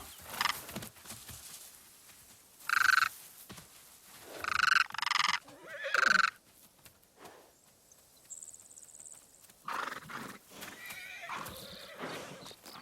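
Horses whinny several times in loud, shrill bursts, separated by quieter stretches with faint hoof clops and insect chirping.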